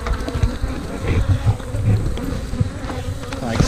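Honey bees swarm and buzz steadily around an open hive during relocation, a dense continuous drone close to the microphone with no one talking.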